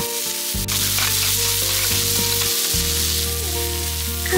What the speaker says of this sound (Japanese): 鶏ももを投入。 皮面から焼いていくよ。